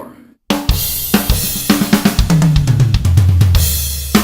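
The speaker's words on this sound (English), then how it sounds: "this sort of thrash slamming on the snare drum and crash cymbal every downbeat" A drum kit plays a thrash-style part, slamming the snare and crash cymbal on downbeats, with loud, rapid hits and tom fills that descend in pitch, after a brief silent start.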